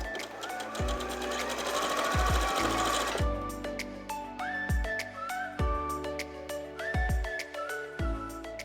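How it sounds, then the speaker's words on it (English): Sewing machine stitching small quilt block pieces together, a close rapid mechanical whir in short runs separated by clunks and pauses as the fabric is repositioned, with a faint voice in places. "I'm going to first sew the smaller pieces on"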